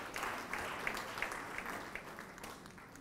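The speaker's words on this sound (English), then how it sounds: "Let's clap for him" A small audience claps briefly at an agriculture event in Nigeria, a faint, fairly distant patter of hands with a few distinct claps standing out, no talking over it.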